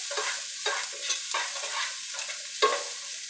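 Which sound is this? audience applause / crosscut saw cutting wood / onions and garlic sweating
onions and garlic sweating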